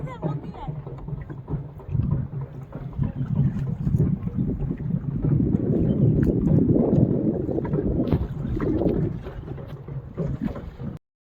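A boat ride on Nainital lake, with steady wind buffeting and a low rumble of water and hull. People talk throughout.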